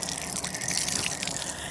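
Steady gushing water from a campsite faucet runs without pause, a broad hiss close by with no voices over it.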